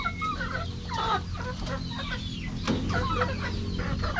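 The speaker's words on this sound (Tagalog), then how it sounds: "Mga tandang malalaki." Several large roosters cluck and murmur close by in overlapping bursts, a busy farmyard chorus without talk.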